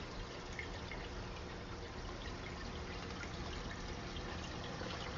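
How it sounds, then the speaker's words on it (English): A cup of water being emptied into a reef aquarium makes a continuous splashing, trickling pour with steady broadband wash and faint drips, alone with no voices. "I'm gonna continue emptying that cup until things are better"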